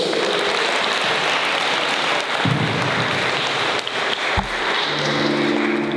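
An audience at a fashion show in a cultural centre in Vidin applauds a singer, a dense, even wash of clapping that holds steady for several seconds before tapering as a low tone enters near the end.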